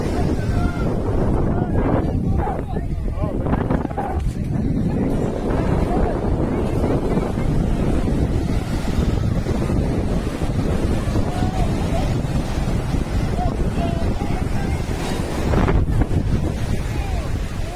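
Sea waves surge and splash continuously on the shore at Somnath, mixed with strong wind buffeting the microphone and a steady roar from the crowded seafront.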